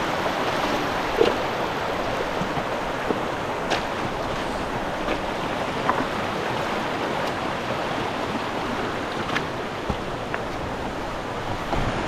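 Steady rushing water from a creek with waterfalls near the start of a steep climb, a broad continuous wash of flowing and splashing water with no voices.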